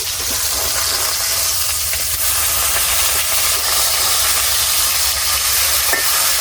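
Rohu fish pieces frying in hot oil in a kadai give a steady, dense sizzle with a continuous hiss and occasional crackles, close and loud throughout with no talking.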